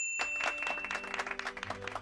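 A cartoon audience in a VeggieTales scene bursts into brisk applause, scattered claps building over a couple of seconds with faint musical tones underneath.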